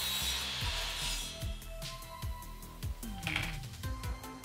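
Sandpaper rubbing printed lettering off a plate, with steady, close scratchy back-and-forth strokes at a low level, no voices.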